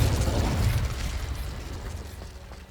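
Explosive Confringo spell blast in Hogwarts Legacy, a loud low booming burst at the start that decays into a rumbling tail, with no talk.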